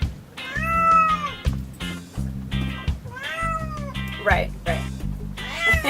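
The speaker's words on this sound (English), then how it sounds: "Can you hear the cat?" A cat meows repeatedly aboard a sailboat on a cruising voyage, rising drawn-out cries over a steady low engine or motor drone, with a brief spoken word in between.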